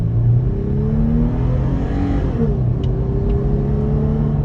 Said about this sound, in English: I'll try to demonstrate an acceleration off the line from a first-hand perspective.